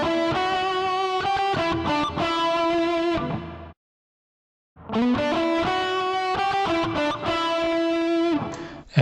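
A distorted electric guitar plays a solo in sustained, harmonically rich phrases, loud and close, breaking off for a second of silence before resuming.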